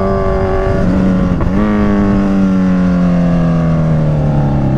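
Kawasaki Z1000 motorcycle running at speed near the Tala viewdeck in Bataan, a steady close engine drone that dips briefly and then holds a long, slowly falling pitch.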